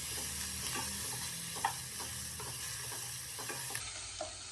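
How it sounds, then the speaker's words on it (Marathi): Green chili, ginger and garlic sizzle steadily in a pan, with scattered light scraping strokes of a spatula stirring them throughout. "हिरवी मिरची, आलं, लसूण त्याला परतून घ्यायचं."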